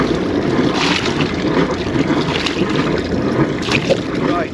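A boat engine runs steadily after a cold start, its cooling water gushing out in a continuous rushing wash with a constant mechanical drone underneath and no clear breaks.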